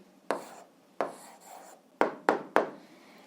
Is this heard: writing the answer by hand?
yes